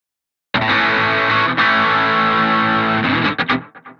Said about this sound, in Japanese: で、最後にディレイで残響を加えています。